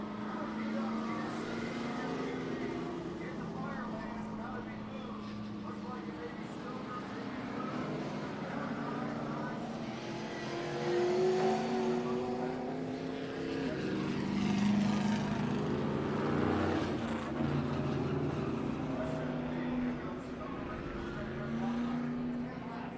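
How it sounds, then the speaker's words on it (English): Modified race cars roll onto the Colorado National Speedway track for a trophy dash, engines droning and swelling as they pass at middle distance, heard under continuous announcer commentary. "And the Modifieds roll onto the racetrack."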